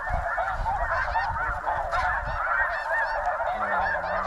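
A large flock of snow geese honks continuously in flight during a conservation hunt, a dense, loud chorus of overlapping calls with no talking.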